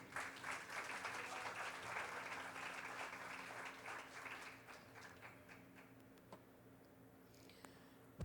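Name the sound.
applause from a church congregation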